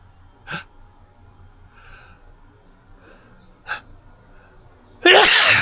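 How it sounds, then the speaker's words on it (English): One person sneezes after a workout: a few quiet sniffing breaths, then a sudden loud, close sneeze bursting out at the end. "I'm going to sneeze."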